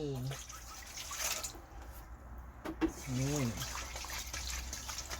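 Water is poured into a mix of sour milk, shrimp paste and fermented fish being made into natural fertilizer for chili plants, a soft splashing trickle under a woman's speech.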